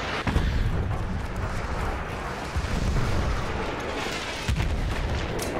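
Heavy, rumbling booms and blasts of mortar fire in Battlefield 1 roll on continuously, dense and loud, with a sharp burst near the end.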